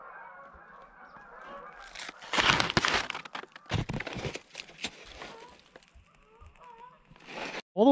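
Geese at a riverside house honk in bursts as they settle for the night, nearby and fairly loud, with rustling and handling noises between calls and a louder honk at the end.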